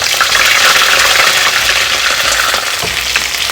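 Garlic, green chillies and curry leaves frying in hot oil for mango pickle, a loud, steady, dense sizzle that crackles continuously throughout.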